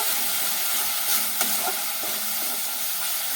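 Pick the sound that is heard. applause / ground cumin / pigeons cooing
ground cumin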